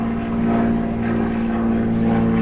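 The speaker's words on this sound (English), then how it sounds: "not the pilot of that damn noisy airplane" A noisy propeller airplane droning overhead, a steady low engine hum with a strong tonal buzz holding evenly and fairly faint throughout.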